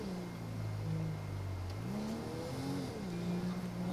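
Car engine in GTA 5 revving up and down in a few quick rising and falling swells, close and moderately quiet, with no talking.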